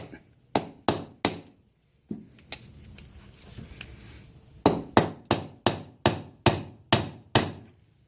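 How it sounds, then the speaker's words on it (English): Sharp metallic hammer blows ring out close by while driving a taper pin out of a Johnson/Evinrude 90 HP outboard powerhead: three quick strikes, a pause with faint rustling, then a steady run of about nine evenly spaced hits. "Go ahead and hammer it out the right way and get it from the back."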